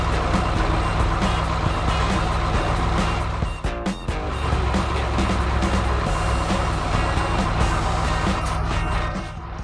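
Cargo truck reversing in a sunny warehouse yard where forklifts move boxes, with steady repeated backup beeps over a loud, continuous engine rumble and yard noise, briefly dipping mid-way.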